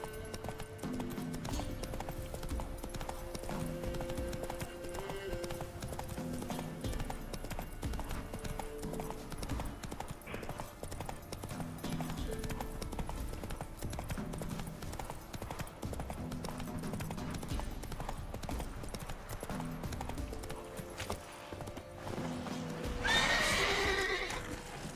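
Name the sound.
horse Roach galloping hooves in the video game Witcher 3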